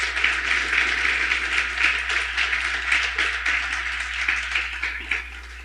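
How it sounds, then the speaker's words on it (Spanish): A church congregation claps together in a bright, crowded patter that holds steady for several seconds before easing slightly, with a low electrical hum running underneath. "Denle un aplauso a Dios por la iglesia."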